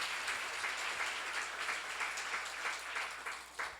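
A church congregation applauds during a Korean seminar sermon on Jeremiah: a fairly quiet wash of many hands clapping together, holding steady for a few seconds before thinning out at the end.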